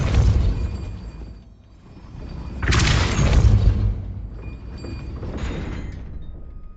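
Spell casts in Hogwarts Legacy: a loud whooshing magical burst, then a second, softer surge a few seconds later, heard over a steady low rumble of game ambience.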